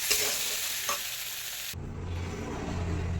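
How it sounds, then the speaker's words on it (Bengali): Fried leafy greens with a sprinkle of flour stirred in a pan: a close sizzle with scraping strokes, then after a sudden cut a duller, quieter frying hiss over a low hum, no voices. "এবার আমি ভালো করে নাড়াচাড়া করে নামিয়ে নেব"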